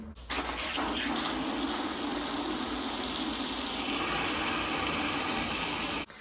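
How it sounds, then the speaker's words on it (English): A steady, loud rush of water pours continuously into a bucket, filling it about halfway, a constant splashing hiss from start to finish before cutting off. "I'm going to come up about nearly half the bucket, basically, with water."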